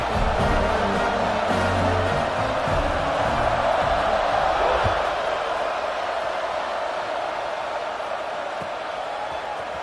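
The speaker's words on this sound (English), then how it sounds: "and this crowd now ready to get behind them." A big stadium crowd roars at a football kickoff near Mount Nittany. The broad, sustained wash of cheering stays loud throughout and eases slightly toward the end.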